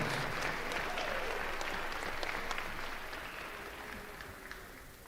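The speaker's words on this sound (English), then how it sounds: "Let's give a final round of applause to our seniors and their families" Steady applause from a crowd in a gym at a high school wrestling meet honoring seniors and their families, a dense even wash of clapping that gradually fades, moderately distant.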